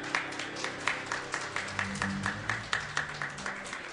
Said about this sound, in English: A big round of applause for our band